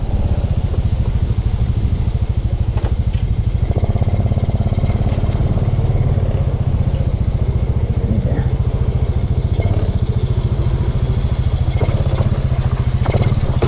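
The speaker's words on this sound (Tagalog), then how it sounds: "Guys, paandar na sa ating motor." A motorcycle engine runs at a steady, loud, close idle with a constant rough low rumble and faint mechanical clatter, and no voices are heard.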